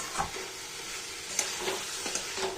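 Egg curry sautéing in a pan with a little oil and spices: a steady close sizzle broken by soft stirring scrapes and light clinks of the spoon, with no talking.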